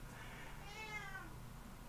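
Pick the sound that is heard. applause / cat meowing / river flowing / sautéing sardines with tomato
cat meowing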